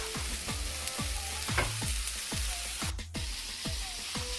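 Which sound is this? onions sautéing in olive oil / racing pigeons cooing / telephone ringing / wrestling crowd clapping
onions sautéing in olive oil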